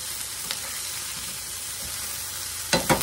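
Sausage, peppers and onions frying in a pan, a steady, full sizzle throughout, with a couple of brief stirring scrapes, the last one louder near the end, and no talking.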